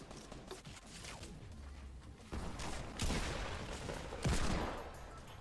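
Rapid bursts of minigun fire in the Fortnite video game, loud, sustained gunfire that swells in waves with sharp peaks over a constant, busy game background.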